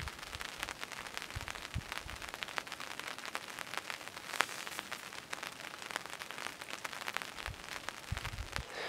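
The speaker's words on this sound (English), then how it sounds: "I think the rain is slowing down." Steady rain patters outdoors at Dog Lake on Paradise Island, a dense hiss of drops with scattered sharper ticks throughout, fairly faint and even, with no voices.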